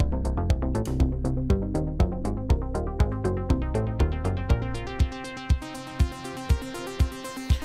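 Synthesized music run through a compressor set to a 2:1 ratio: a steady, busy rhythmic pattern of repeated harmonic notes with regular percussive hits, fairly loud and even, with no voices.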